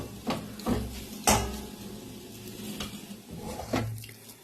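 Market-bought taro paste is stir-fried in a pan, a low sizzle broken by repeated scraping and knocking of a spatula against the pan, irregular strokes close by and fairly quiet.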